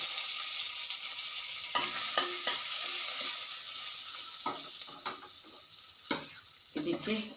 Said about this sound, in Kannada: ಸಾಸಿವೆ ಸಿಡಿತಿದೆ, ಕರಿಬೇವಿನ ಸೊಪ್ಪು ಹಾಕ್ತಾ ಇದ್ದೀನಿ.